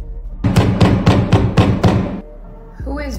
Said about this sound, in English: Who is banging on the door right now?